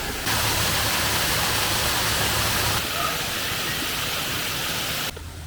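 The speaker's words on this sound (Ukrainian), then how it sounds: "Оце прямо ось така от система з бамбуку. Ось вона йде звідти. Сюди затікає вода." Water flows steadily from a bamboo pipe into a wild thermal spring, a loud, broad rushing wash that holds constant with slight level shifts throughout.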